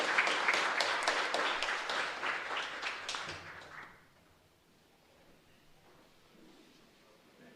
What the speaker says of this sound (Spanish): Ahora un fuerte aplauso para todos ustedes.